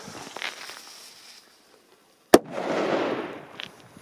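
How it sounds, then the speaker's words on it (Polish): A 1-gram firecracker goes off outdoors in snow with one sharp, loud bang after a near-silent pause, followed by a brief wash of hissing echo and faint background noise. "Także leci pierwsza sztuka. Przypomnę, że są to petardy jednogramowe."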